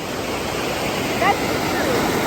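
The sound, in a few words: large flow of water gushing out of a pond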